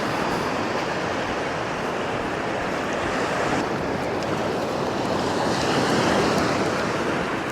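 Ocean surf at Philorth Beach in Aberdeenshire, a steady broadband roar of breaking waves mixed with wind buffeting the microphone, loud and unbroken throughout.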